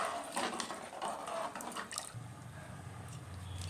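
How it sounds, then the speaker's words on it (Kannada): Vangi bath simmers in an open pressure cooker, a faint close bubbling and spattering with soft liquid pops and a low steady hiss, no voices over it. "ನೋಡಿ, ಎಲ್ಲ ಕುದೀತಾ ಇದೆ."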